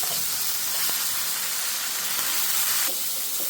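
Potatoes hit hot oil seasoned with turmeric, salt and chili powder, giving a steady, close sizzling hiss that fills the whole stretch, with a few soft clinks under it.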